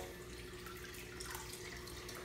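Water added to a JBJ Cubey 15G aquarium, a faint continuous trickle and gurgle with a steady low hum underneath.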